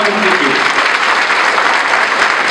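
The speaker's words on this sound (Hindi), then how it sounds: "जोरदार तालियों से इस बात का मेरा समर्थन कीजिए" Loud, dense applause from an audience at a political gathering honouring a Maharashtra cabinet minister, sustained and even throughout with a voice briefly heard at the start.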